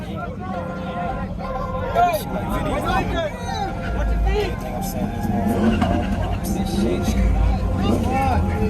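A car doing a burnout at a big car meet in Michigan, its engine roaring and tires squealing continuously close by while a crowd of people shout and chatter over it.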